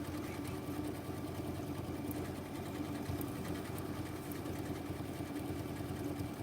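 A sewing machine stitches small circles on fabric in one continuous close run, an even, rapid whirring hum lasting throughout with no pauses.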